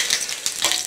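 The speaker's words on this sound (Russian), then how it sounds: "Любой человек, мужчина, умеет жарить сосиски" A brief, bright sizzle of sausages frying in a hot pan indoors, crackling softly and continuously.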